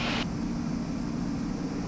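Steady broadband engine and airflow drone inside a private airplane cruising level at 8,000 feet around 165 knots, constant and even with no talk.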